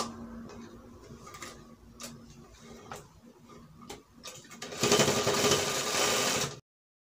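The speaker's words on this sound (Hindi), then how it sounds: "ऊपर से एक दाग का स्टिचिंग मारेंगे।" Domestic sewing machine stitching a single line of fabric on a dhoti salwar, heard as soft ticking runs that swell into a louder, steady mechanical whir near the end before stopping abruptly.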